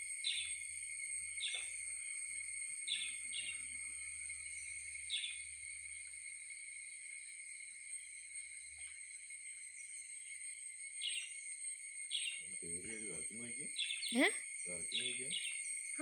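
A pet bird gives repeated high, thin calls at a steady pace indoors, fairly faint, with a person speaking briefly near the end.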